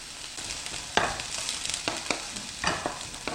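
Onions stir-frying in a pan over medium-low heat for Korean spicy squid stir-fry, a soft sizzle punctuated by several sharp spatula scrapes, close and moderately quiet, with no talking.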